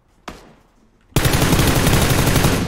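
Automatic gunfire in a first-person shooter video game: one sharp shot, then a sustained, loud burst of rapid fire that continues to the end.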